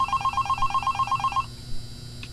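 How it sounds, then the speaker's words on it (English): Phone ringing in the video game Five Nights at Candy's, a rapid trilling electronic bell in short repeated bursts for over a second before cutting off, over a low background hum. "I don't need this phone call."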